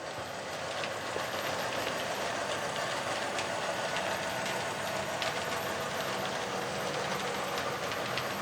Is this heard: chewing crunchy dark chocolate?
no